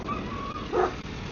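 A single short dog bark or yip sounds at a moderate distance at a sheep farm, set against steady background noise with a faint whine before it.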